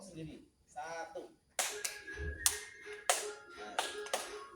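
Hands clapping in a group clapping game among participants at a school, a handful of sharp, distinct claps in an uneven rhythm, close by, following a short stretch of talk.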